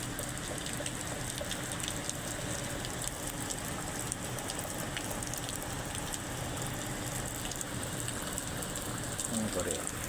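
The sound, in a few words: heavy rain falling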